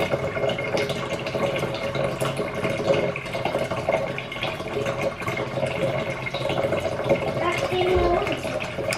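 Tap water runs and fills a container indoors, a continuous splashing rush under background household noise, with people talking intermittently over it.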